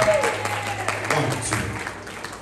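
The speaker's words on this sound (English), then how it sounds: "why don't you give them a great big round of applause?" An audience at a live performance claps in a dense burst of applause that tapers off toward the end, with a voice briefly audible over it.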